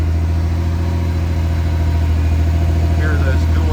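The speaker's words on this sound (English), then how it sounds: "Hear those dual exhausts pumping out a nice sound." A 1988 Pontiac Fiero Formula engine idles through dual exhausts, a steady low rumble throughout, close and fairly loud, with faint voices in the background.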